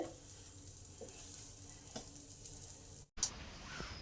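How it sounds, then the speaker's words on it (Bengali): A pumpkin-stuffed wheat paratha fries in oil in a pan, a close, steady sizzle with a few stirring scrapes, briefly cutting out before the frying resumes. "এবার অল্প করে তেল দিচ্ছি আপনারা ঘি দিয়েও ভাজতে পারেন"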